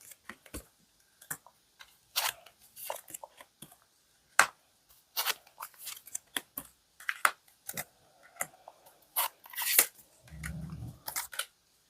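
Tarot cards are shuffled and drawn, producing soft, irregular papery flicks, taps and slides at close range, with a brief low rustle near the end and no talking.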